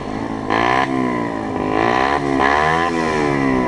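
A Skyteam Dax 50 motorbike engine revs up hard several times, loud and close, with rising-pitch bursts between idling moments.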